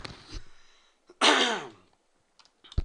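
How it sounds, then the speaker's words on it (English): A raspy throat clearing close to the mic, followed by a short, harsher cough-like burst and a few soft clicks, with no talking. "Hold on, got cough."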